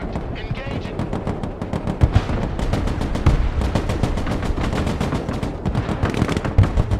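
Dense automatic cannon and machine-gun fire from a close air support strike in the military strategy game Broken Arrow, rapid continuous bursts with loud impacts, heavy and close throughout.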